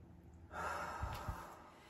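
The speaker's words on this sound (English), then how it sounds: "Take a deep breath, hold it at the top." A single deep inhaled breath drawn in through the nose and mouth, then held, close and soft with no talking.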